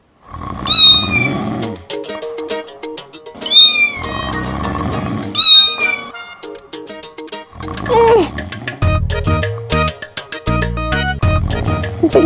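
A voice imitates a cat in a cartoon, giving several drawn-out meows at regular intervals with music and sound effects between them, followed by a busier stretch of background score.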